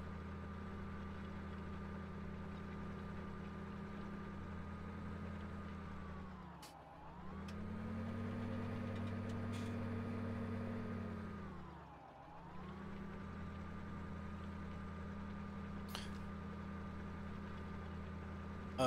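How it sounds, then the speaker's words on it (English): A John Deere 8000 series tractor fitted with custom wide tires, driven in a farming video game, drones steadily close up, its engine pitch dipping and swelling twice as it changes load, with no talk over it. "The particular tractor I'm driving is a Rockhound Special. It's an 8000 series John Deere that's been reworked with custom wide tires"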